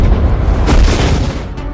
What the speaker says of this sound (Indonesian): ledakan besar pun mengenai rahang Rathalos